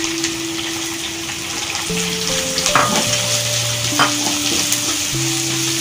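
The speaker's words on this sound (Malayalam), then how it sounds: "ഹൈ ഫ്ലെയിമിലാണ് ഞാനിട്ട് ഇളക്കിക്കൊണ്ടിരിക്കുന്നത്." Two medium sliced onions stirred and fried over a high flame for a dried prawns roast, a loud steady sizzle with scraping strokes, under a sustained tonal hum that shifts pitch.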